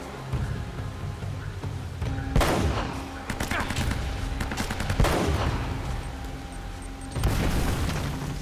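Gunfire in the video game Uncharted 1, with sustained rapid automatic shots and several heavier booms, loud and close, mixed with other game action.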